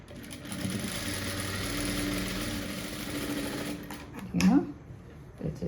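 A sewing machine runs steadily while stitching a nighty during an alteration, its even motor whir lasting several seconds before stopping, and someone speaks over it near the end.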